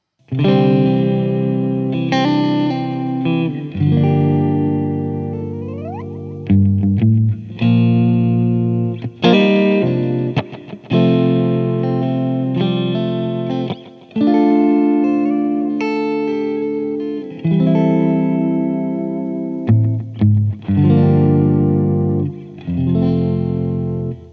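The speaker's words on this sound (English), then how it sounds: "let's plug it in to my Fender Deluxe Reverb and see what it sounds like" A loud, overdriven Fender Ultra II Stratocaster through a Fender Deluxe Reverb tube amp plays chords and ringing single notes with warm distortion and a wash of reverb, pausing briefly between phrases.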